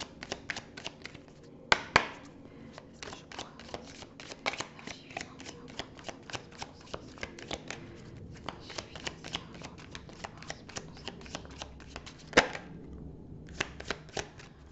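An oracle card deck for cartomancy being shuffled up close, with repeated crisp riffles and slaps of cards in steady bursts, plus a few sharper snaps, and no talking.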